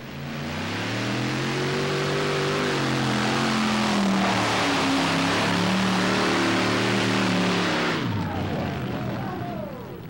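Big block alcohol-fuelled engine of a pulling tractor roars loudly and continuously, with a heavy droning pitch that wavers up and down before cutting off sharply near the end, leaving a fading rumble.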